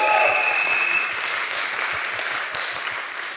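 Conference audience applause fills the hall as a steady, dense wash of clapping, loudest at the start and easing slightly, with a brief faint tone near the beginning.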